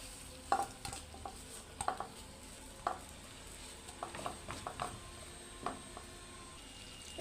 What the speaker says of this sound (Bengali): তারপর এখন চিংড়ি মাছ ঢেলে দিব। একে ভেজে নেব একটু তেলের ভিতরে।